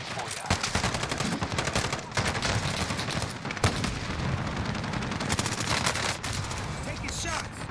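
Rapid gunfire fills a battle in the video game Caldera Clash: dense automatic bursts and single shots crackle continuously at close range, with voices talking underneath.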